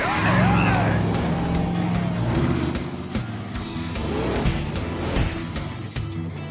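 Hot Wheels toy monster trucks racing, including Bigfoot, with a loud, continuous revving motor whine, skids and gliding engine pitch sweeps, mixed with cartoon music and excited voices.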